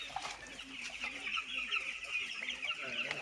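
Broiler chickens cluck and chatter steadily in a poultry breeding pen in Ibadan, Nigeria, a close, continuous flock murmur with occasional louder calls.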